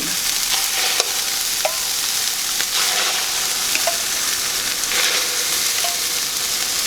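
Eggs fry in a pan with a constant close sizzle, punctuated by scraping clicks and taps of a big spoon stirring against the pan; no one speaks.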